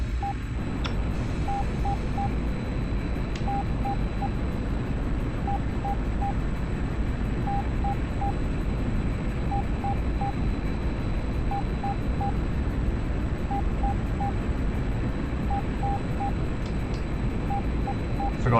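A MiG-21 jet engine roars through takeoff in a Cold War flight simulator, a steady unbroken drone. Triple electronic beeps repeat at regular intervals over it, and no one speaks.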